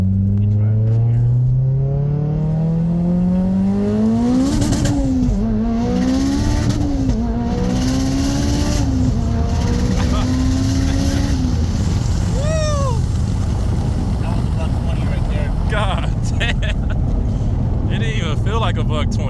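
An 800hp turbocharged car running 37 psi of boost accelerates hard, its engine note climbing steeply for several seconds before settling into a loud, sustained roar with rapid pitch swings as the revs rise and fall.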